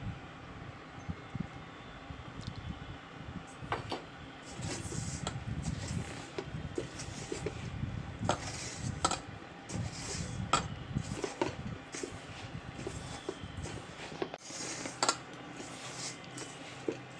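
Semolina and gram flour laddu dough is worked by hand with ghee and cardamom in a bowl. Soft, repeated scraping and rustling mixing sounds carry on steadily with occasional light clinks, close and quiet.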